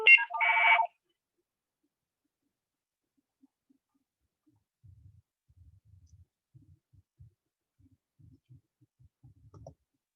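A phone rings with a single short electronic burst, loud and close, followed by near silence and faint scattered thumps.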